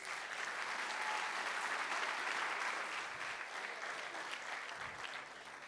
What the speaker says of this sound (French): je voudrais qu'on applaudisse à nouveau Sophie Singer